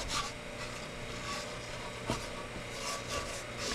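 Coarse salt scrubbed around inside a cast iron Dutch oven to grind off residue, a steady gritty rasping with quiet repeated strokes, close and fairly soft.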